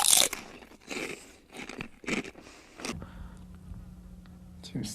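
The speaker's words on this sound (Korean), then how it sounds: "지금 스튜디오에 파리가 들어왔는데" A housefly buzzes inside a studio, a faint steady low drone that emerges after a stretch of speech and crunchy handling noises, with a voice talking over parts of it.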